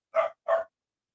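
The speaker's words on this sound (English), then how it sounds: "Somebody do something about that dog." A dog gives two short, sharp barks in quick succession, fairly close and loud, then falls silent.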